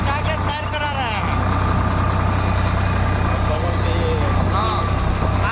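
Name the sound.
tractor engine running while driving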